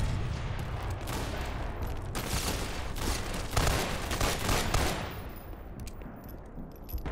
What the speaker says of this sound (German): Sieht mal aus wie fette Artillerie oder sowas